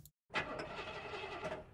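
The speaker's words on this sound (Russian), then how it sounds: "Я завела мотор, нажала сцепление и заглохла" A car engine in the game Locked Up cranks and catches after a short silence, running roughly for over a second at close range, quiet overall, with no talk.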